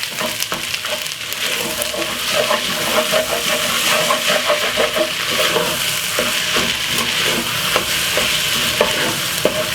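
Jerk linguine pasta with mixed vegetables and sweet chili sauce sizzles in a pan while a utensil scrapes and stirs it in a steady, close run of clatters, without talk.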